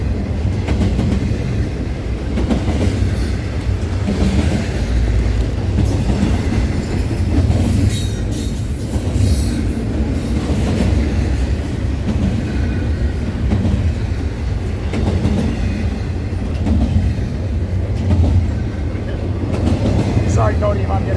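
A freight train rolls steadily past at Fullerton, a loud continuous rumble of wheels and cars with clacking and some squeal, with a few voices underneath.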